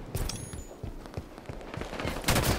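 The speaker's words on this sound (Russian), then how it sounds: "этот автомат очередями стреляет" Automatic rifle in Halo 5 firing in bursts during an online match, sharp repeated shots over busy game noise, with a few louder blasts toward the end.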